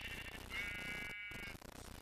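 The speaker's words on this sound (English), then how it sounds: "Finally we found sheep!" A Minecraft sheep bleats once, a short wavering cry over a faint game background, brief and fairly quiet.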